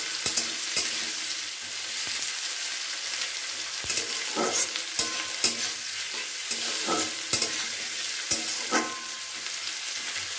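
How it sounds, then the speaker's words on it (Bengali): Chopped onion and green chili with black cumin seeds sizzle steadily in hot oil in a wok, with a spatula scraping and stirring in irregular strokes throughout. "একটু নাড়াচাড়া করে নিলাম এটাকে"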